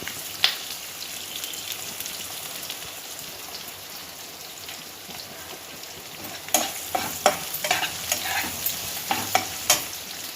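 Sliced onions and ginger pieces frying in oil in a pan for upma, a steady soft sizzle broken by louder crackles and stirring scrapes that pick up toward the end.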